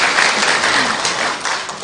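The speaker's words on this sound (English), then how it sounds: "Clap, clap, clap." A morning class audience claps together in a dense, steady wash of applause that holds for the whole stretch, with a faint voice underneath.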